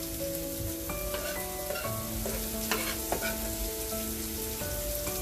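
Onions cook down in a pot for shrimp and sausage gumbo, making a continuous soft sizzle and stirring noise beneath gentle background music.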